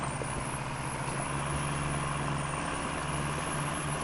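Heavy truck engine rumbling steadily in SnowRunner, an IX 3880 wrecker or Monstrosity, a loud close drone with a constant high hiss and no clear air-brake release.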